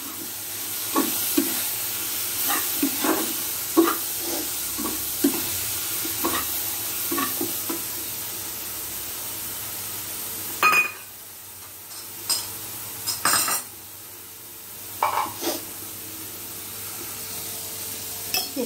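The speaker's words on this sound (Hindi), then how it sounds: "ये सभी सब्जियाँ हाफ फ्राई हो रही हैं, लमसम हो गई, इसे ज़्यादा नहीं भूनना है।" Chopped vegetables and paneer sizzle softly in a pan while a spoon stirs them in rhythmic scraping strokes, close and fairly quiet, with a few sharper clanks against the pan.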